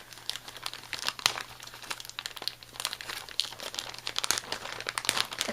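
Crinkly plastic packaging being opened around a thrifted rayon Venice lace trim: continuous close crumpling and crackling with sharp bursts throughout, alone with no speech.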